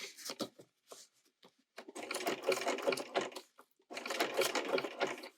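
Sewing machine stitching a small fabric gift tag, with short rapid bursts of stitching separated by pauses as the foot is lifted and the fabric pivoted, then two longer runs, close and clear without talk.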